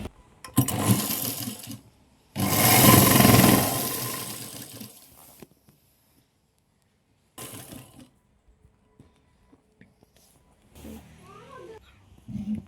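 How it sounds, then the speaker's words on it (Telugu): Sewing machine stitching a folded hem on a silk skirt, running in two loud bursts with a short pause between them, then falling quiet apart from sparse faint handling noises near the end. "ఫస్ట్ ఒక ఫోల్డింగ్తో కుట్టు వేస్తున్నాను."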